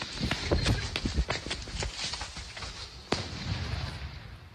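Heavy fireworks set off by youths in a neighbourhood crackle and bang in rapid bursts, then a single sharp report cuts through, heard from close range outdoors with ambient street noise.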